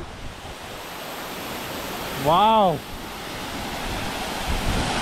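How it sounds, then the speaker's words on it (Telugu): A steady, broad rushing roar from a waterfall at Srisailam dam fills the whole stretch, with a person briefly exclaiming partway through. "ఏం వాటర్ ఫాల్స్ ఇది"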